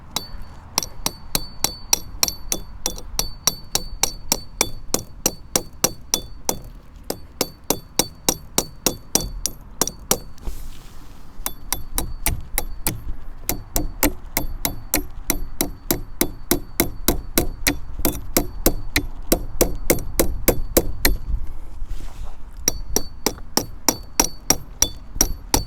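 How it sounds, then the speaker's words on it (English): A stake for a 2'x4' political yard sign is hammered into hard, rocky ground, with dozens of sharp metallic strikes in a steady, rapid rhythm, close and loud, with a few brief pauses between bursts. "hammer this down in"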